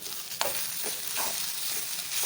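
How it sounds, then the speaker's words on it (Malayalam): Stirring winged bean thoran in a pan with a soft scraping sweep or two over a steady low sizzle, no voices. "നന്നായി ഒന്ന് മിക്സ് ചെയ്തെടുക്കാം"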